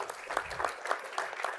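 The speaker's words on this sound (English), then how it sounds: "give yourself a nice round of applause" Audience applause at the close of a medical panel event on narcolepsy treatment, a steady wash of many hands clapping with no voices over it.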